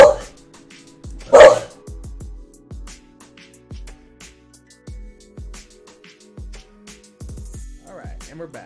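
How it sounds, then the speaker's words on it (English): A pet dog barks in sharp bursts, with two loud yaps at the start followed by scattered quieter clicks and thumps through an otherwise quiet indoor room. "My dog is freaking out."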